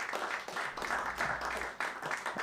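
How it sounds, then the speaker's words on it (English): An audience applauding a performer at a CD release concert, with a dense, moderately loud clapping that swells and wavers and has no voices over it. "Give him a big round of applause"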